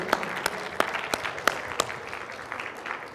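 Faint, scattered hand claps from a small audience at a university talk on a governor election, with a few sharp, irregular claps over a quiet, thin background.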